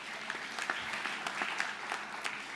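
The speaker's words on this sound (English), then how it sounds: "So give yourselves a round of applause." An audience applauds steadily with dense, even clapping at a moderate distance, continuing evenly throughout with no voices over it.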